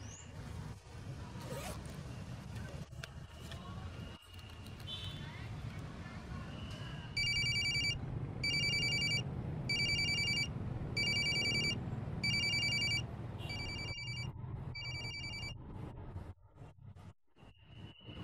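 A phone on an outgoing call rings in repeated regular bursts, unanswered, loud and close, over a background of room noise and some handling sounds.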